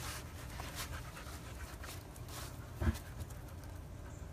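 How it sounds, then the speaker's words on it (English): A puppy pants softly up close, its quick breathy rhythm low and faint, with a brief louder snuffle or whimper partway through. "Oh, George, look at this puppy"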